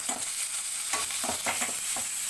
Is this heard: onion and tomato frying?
yes